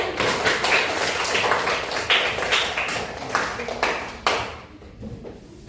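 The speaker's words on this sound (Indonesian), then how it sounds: "silakan kasih tepuk tangan" A fifth-grade primary school class claps for a group that has just presented, a lively patter of many small hands that holds steady and then thins out toward the end.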